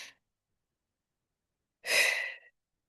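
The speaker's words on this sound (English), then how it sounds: "Close your eyes, deep breath." One deep breath is drawn during a guided relaxation exercise. It comes as a single close, breathy exhale of about half a second in otherwise silent surroundings.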